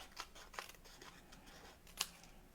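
Scissors trim closely around a stamped happy birthday sentiment on cardstock, giving a few quiet, crisp snips spaced irregularly, with one sharper cut near the end.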